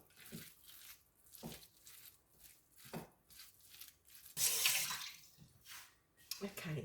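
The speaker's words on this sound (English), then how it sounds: "It's important that you rinse your hand because then it won't stick" Hands are rinsed under running water in a kitchen while preparing salmon fish cakes, a short gush of splashing amid soft handling noises, with a person talking throughout.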